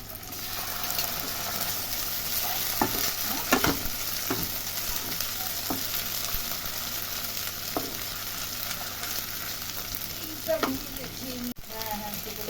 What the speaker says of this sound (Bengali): এবার আমি এর মধ্যে দিয়ে দিচ্ছি বাটা মশলা।